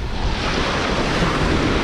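Rough sea surf breaks at a beach in Bar, Montenegro, a loud, dense, continuous roar of waves and wind buffeting the microphone, with no voices.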